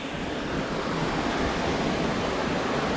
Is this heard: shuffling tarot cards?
no